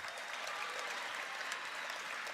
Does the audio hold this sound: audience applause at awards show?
yes